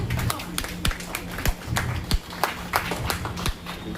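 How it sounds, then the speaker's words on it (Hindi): Scattered audience clapping at a short film screening ceremony, a modest crowd producing sharp uneven claps at close range with a low murmur beneath. "तो आपके लिए एक बार आप तालियां बजा सकते हैं।"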